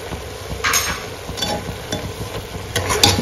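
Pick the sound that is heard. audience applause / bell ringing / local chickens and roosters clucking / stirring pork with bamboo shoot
stirring pork with bamboo shoot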